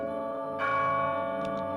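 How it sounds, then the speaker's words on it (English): A church bell tolls at noon on a festival day, a single deep ringing strike with a long sustained hum of overtones, loud and close, followed by a faint higher chime. "at noon of the day of the festival, the church bell tolled"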